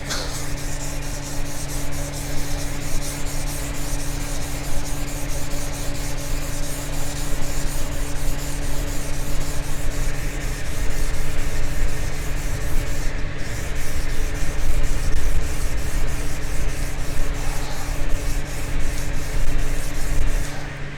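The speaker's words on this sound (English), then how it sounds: "you just take the sandpaper and just start sanding" Continuous rough scraping of sandpaper on a rusty cast iron table saw top, steady and close, with rapid back-and-forth strokes throughout and no voices.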